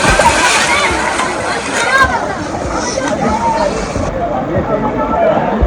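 A person jumps into an outdoor swimming pool in Jhelum Garden Town, making a loud, churning splash and sloshing water close by, while people talk and shout around the pool.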